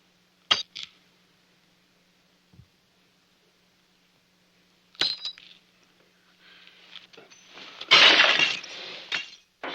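Drinking glasses smashed after a toast in an officers' mess: a few sharp isolated crashes early on, then a louder, longer burst of shattering and tinkling shards near the end, with quiet gaps between.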